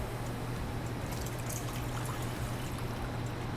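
Water poured from a vessel into a cooking pot for making stock, a steady close trickle and splash lasting a few seconds, fairly quiet with no talking.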